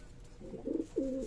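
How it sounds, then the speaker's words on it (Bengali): A male pigeon coos on a rooftop pigeon farm: two or three low, rounded coos close by in quick succession. "আর ওখানে দেখেন একটা পাগলা নর ডাকাডাকি করে"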